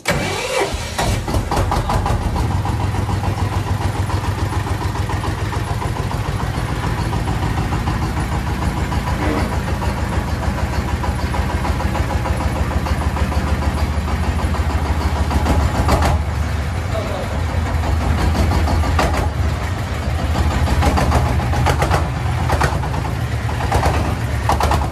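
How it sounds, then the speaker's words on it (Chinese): A farm vehicle hauling apples starts up and idles, its medium engine giving a loud, steady, close rumble for the whole stretch, with occasional revving surges and brief voices in the background. "我来开一下这个车，"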